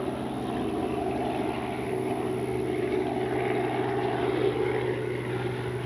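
An E-flite 70mm Viper RC jet makes a touch and go, its electric ducted fan giving a steady, fairly distant whine and rush that holds even for several seconds with no talk.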